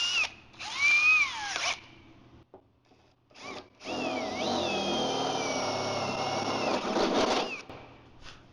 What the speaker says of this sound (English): You can just use a standard drill bit as usual, or a step bit